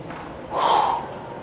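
A single forceful, breathy exhale pushed out during an abdominal crunch exercise: one short gust of air lasting about half a second, close and alone.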